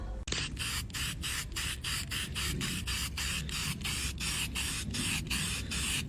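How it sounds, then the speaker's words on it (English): A spray paint can hisses in a rapid series of short, even bursts over an aluminum truck window panel, close and steady, with no talking. "this spray paint sucks."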